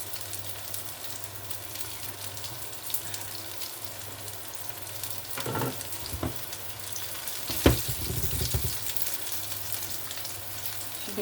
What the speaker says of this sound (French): Oui, c'est de la friture